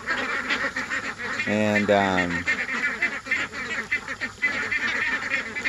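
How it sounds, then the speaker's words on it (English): Six-week-old ducklings honking and calling in a close, noisy flock, with one loud harsh call standing out midway over a steady chatter; a voice speaks briefly. "The ducklings are now just over 6 weeks old."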